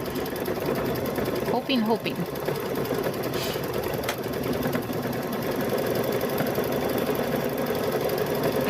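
A sewing machine stitches a patchwork gnome quilt in a steady, continuous mechanical whir, with brief speech near the start.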